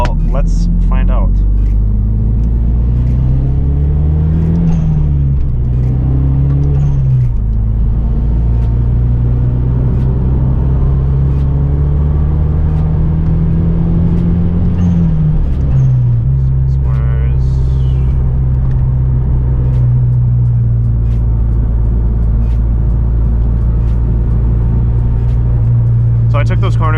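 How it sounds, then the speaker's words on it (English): A car fitted with H&R lowering springs corners at about 100 km/h, its engine and road noise forming a loud steady drone that rises and falls with throttle, with someone talking over it. "So I took those corners at about 100 kilometers an hour."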